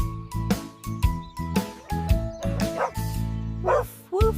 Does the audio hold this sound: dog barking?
yes